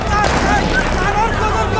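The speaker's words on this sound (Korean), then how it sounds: "그 순간 총성이 울려 퍼졌고" Gunshots ring out in a film scene, a loud, dense clatter of gunfire blended with rumbling blasts, while people shout over it.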